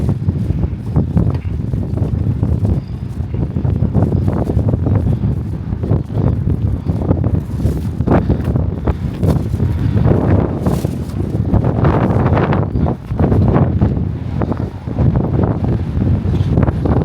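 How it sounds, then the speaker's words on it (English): Strong wind buffets the microphone on a seafront walk at Bognor Regis, a loud continuous roar with gusty surges and no talking throughout. "It's windy."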